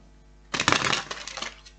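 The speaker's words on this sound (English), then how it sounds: "One more shuffle" Tarot cards being shuffled, a quick papery riffle of about a second following a short quiet lead-in, close and fairly soft.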